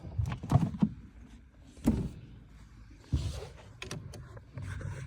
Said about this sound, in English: let me open this door up